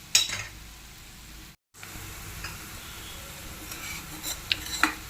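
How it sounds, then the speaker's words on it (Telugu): Chili powder sizzles softly in a hot pan, with a spatula stirring and scraping against the metal and a few light clinks, heard close in a home kitchen before eggs go in. "కొంచెం కారం స్మెల్ పోయేదాకా యాగనిస్తే తర్వాత ఎగ్స్ యాడ్ చేయాలన్నమాట."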